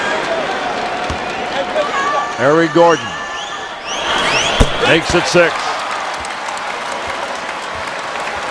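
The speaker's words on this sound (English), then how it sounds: "This crowd about to erupt." An NBA arena crowd at a Clippers home game against the Miami Heat cheers and applauds through a late free throw, a broad roar that swells partway through under a commentator's voice, with squeaks and bounces from the court.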